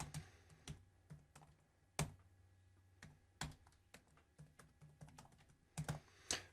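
Quiet clicking of typing on a computer keyboard, irregular keystrokes with a few sharper, louder taps, close by with no talking.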